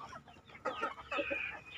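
Chickens cluck nearby in a few short bursts, soft and close, with a quiet pause before the clucking picks up again.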